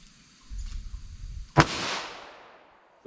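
A single sharp, loud report from a .22 Magnum Winchester Super-X Hypervelocity round fired through a 3-inch barrel, ringing out in a long decaying tail after a brief low rumble, with a faint click near the end.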